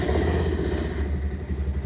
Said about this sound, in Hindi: एक बार इंजन को स्टार्ट कर लेते हैं।